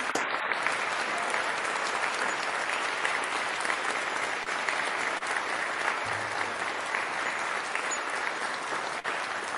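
Steady, dense applause from an audience at a seminar fills the clip at an even level from start to finish, with no pauses.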